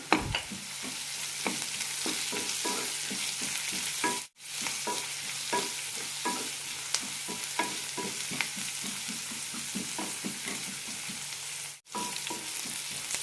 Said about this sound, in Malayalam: കൂടെ തന്നെ കുറച്ച് പുതിനയില, 2 പച്ചമുളക് കീറിയത്, കുറച്ച് കറിവേപ്പില. നന്നായി വഴറ്റിയെടുക്കാം.